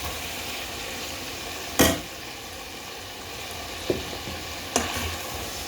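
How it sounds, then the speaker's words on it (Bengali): Green bananas frying in hot oil for a fish curry with hilsa, a steady soft sizzle with a few sharp stirring bursts, close and alone. "এখন আমি দিয়ে দিচ্ছি কলাগুলো গরম গরম।"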